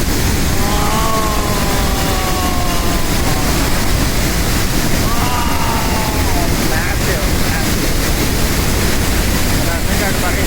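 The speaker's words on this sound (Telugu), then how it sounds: "What a beautiful waterfall." A waterfall pouring down between hills in Ecuador, a loud, dense, unbroken roar of rushing water filling the scene, with a voice briefly speaking over it early on.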